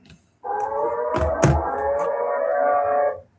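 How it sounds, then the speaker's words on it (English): A civil defense tornado siren wails in one sustained rising tone lasting about three seconds, with a few sharp knocks partway through, clear and fairly loud. "I'm going to sound the siren."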